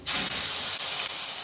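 A prepared matar paneer paste drops into a hot pan and sizzles at once, giving a loud, steady, bright hiss that carries on through the whole moment with no talking over it.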